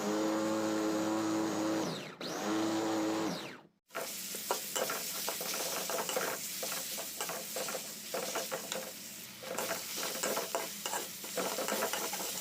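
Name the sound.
ground spice paste being stir-fried in oil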